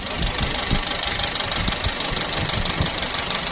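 A warm Toyota Corolla engine runs at a used car market with a steady knocking mechanical rumble, close and fairly loud, holding an even idle-like tone for a few seconds.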